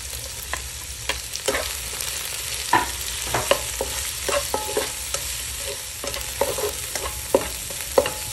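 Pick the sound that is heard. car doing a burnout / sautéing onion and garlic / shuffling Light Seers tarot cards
sautéing onion and garlic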